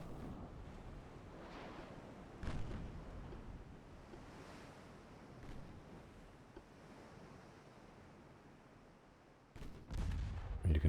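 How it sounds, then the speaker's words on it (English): Secondary guns firing on a warship in Ultimate Admiral: Dreadnoughts, a few scattered booms over steady rushing sea and wind, with a louder cluster of blasts near the end. "using my secondary guns"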